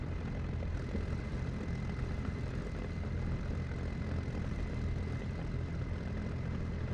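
A propeller aircraft engine runs during a run-up as a steady, droning close hum with a faint tonal whine above it, unchanging throughout and with no talk.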